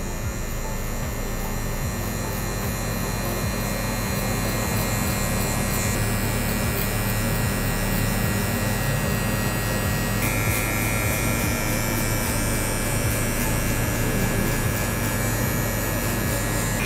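Electric hair clippers fitted with a half guard buzz steadily and loudly while cutting hair during a drop fade, a continuous close-up hum with slight shifts in tone and no talking.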